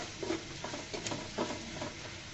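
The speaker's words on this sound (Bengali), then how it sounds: "ডিম দিয়ে আমি সুন্দর করে নেড়ে চেড়ে নিচ্ছি টমেটো আর ডিমের সাথে ভালো করে মিশ্রণটি মিশিয়ে নিতে হবে" A spatula works through a tomato and egg stir-fry in a pan, giving soft, irregular scrapes and stirs over a faint, steady sizzle.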